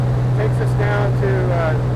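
Navion propeller aircraft climbing out, its engine a loud, steady low drone with a constant hum throughout, heard from inside the cabin with faint voices beneath.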